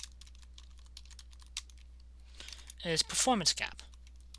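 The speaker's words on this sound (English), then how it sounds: "I'm just going to type this on there" Keys tapping on a computer keyboard in a quiet room, sparse clicks through the first half, then someone talks over more typing near the end.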